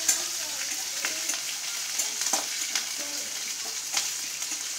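Chillies, coriander and curry leaves saute in hot oil, a steady crackling sizzle with faint occasional spoon taps, close but fairly quiet, with no voices.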